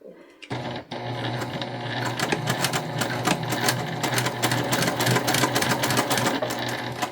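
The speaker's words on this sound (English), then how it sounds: "we're top stitching at 1/8 of an inch all the way around" Steady, rapid mechanical chatter of a sewing machine top stitching a cotton tote bag at an eighth-inch seam, running continuously and fairly close after a brief start.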